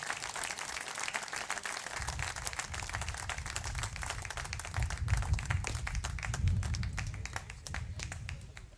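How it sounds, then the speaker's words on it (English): Audience applause at a baseball tournament award ceremony, a steady wash of clapping from a crowd that swells midway and carries on throughout, with some voices and chatter mixed in. "Big applause for James"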